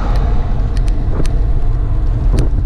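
Fast-moving road traffic rushes past a cyclist on a Greek road, a loud continuous roar of passing cars with wind buffeting close by.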